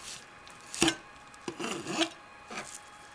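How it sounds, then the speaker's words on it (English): A knife separating the beef cap from a tenderloin, soft rasping scrapes and short rubbing strokes of the blade against meat, close and quiet with no talk. "You will probably need to use a knife to completely separate the meat."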